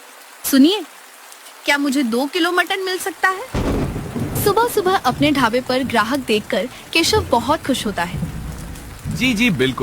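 Rain and a thunderstorm rumble and patter in the background of a narrated Hindi story, mostly beneath a narrator and short exchanges of dialogue that run throughout.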